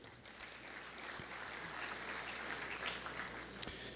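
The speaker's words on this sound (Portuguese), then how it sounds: "Uma salva de palmas ao nosso moderador." Audience applause for a panel moderator at an energy transmission regulation forum, a steady wash of clapping from a seated crowd that holds at an even level throughout, with a faint low hum beneath.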